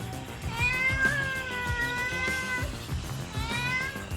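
A cat meows repeatedly in drawn-out, wavering cries, close and fairly loud, with a second long yowl near the end and no talking.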